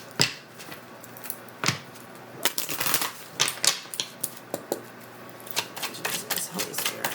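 Tarot cards riffled and shuffled close by, a string of crisp snapping flutters and taps coming in quick irregular bursts over a quiet room.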